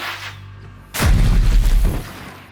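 A Suppressive Fire bow attack in the video game Wartales lands as a sudden heavy boom followed by a second of rumbling impact noise that fades away.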